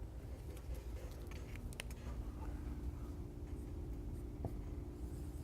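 A pen or marker scratches out a straight line graph by hand, a steady soft writing rasp with a few brief taps, close and alone without speech.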